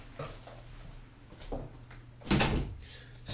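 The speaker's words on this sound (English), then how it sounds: "I'm going to go shut my door." A room door pushed shut indoors, one loud solid thud near the middle with a few fainter knocks and shuffles before it, close to the mic and with no voices.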